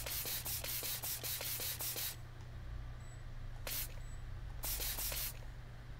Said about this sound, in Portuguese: Agora tenho de deitar um spray.